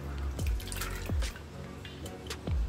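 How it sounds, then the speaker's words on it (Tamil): Water drains from soaked chana dal lentils and splashes in uneven pours, with heavy drips and glugs falling into a sink, close and fairly loud. "இப்போ தண்ணியெல்லாம் வடிச்சிடலாம்"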